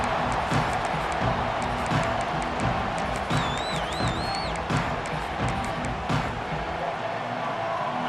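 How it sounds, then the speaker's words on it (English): A stadium crowd in the EA Sports College Football 26 video game cheers in a continuous, dense roar with whistles and rhythmic claps mixed in throughout. "This crowd ready to make its presence known."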